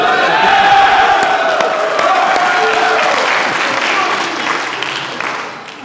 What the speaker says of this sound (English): we go ahead and applaud each one individually